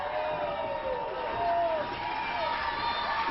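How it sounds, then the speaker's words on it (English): Wrestling arena crowd at a Facade vs Sammy Guevara match roaring steadily throughout, a dense continuous wash of cheering with a few whoops rising over it. "This crowd getting behind Facade right now"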